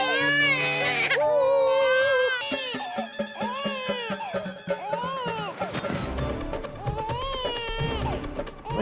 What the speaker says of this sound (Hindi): हाँ, छोटा बच्चा रो रहा है।